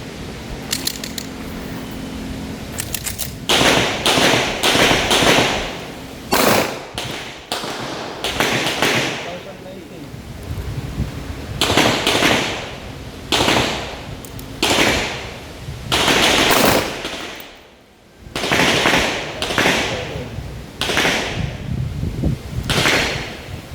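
Repeated .40 caliber handload test shots fired one after another for a chronograph velocity check, each a sharp loud crack with a quick decay, spaced roughly a second or two apart, with brief quiet gaps.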